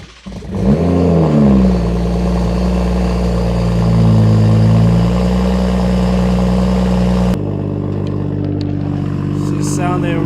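A Toyota Supra engine idles and revs up close, with a sharp rise at the start and another swelling rev midway, then settles into a steady idle; a voice talks briefly over it.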